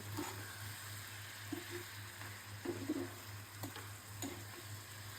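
Shing fish fry lightly in a pan for a potato curry, a faint, steady sizzle under a low background hum, with a few soft stirring scrapes.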